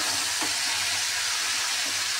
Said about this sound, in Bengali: এবার এটা ভালোভাবে ভাজা হোক